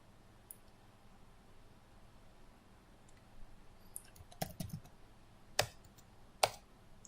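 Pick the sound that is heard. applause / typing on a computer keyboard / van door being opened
typing on a computer keyboard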